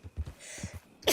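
A single sneeze, close and fairly quiet, preceded by a few soft breathy intakes and ending in a sharp burst.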